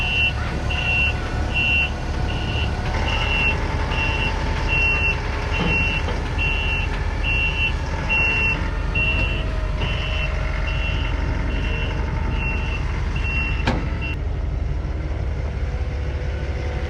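A steady series of loud, evenly spaced reversing beeps sounds from a loader backing off a trailer hauled by a Ram 3500 HO Cummins dually, over a constant diesel rumble, ending with a sharp clank.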